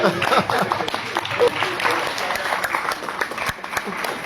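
An audience at a poetry award ceremony gives a standing ovation, with sustained, dense applause throughout that stays loud and even.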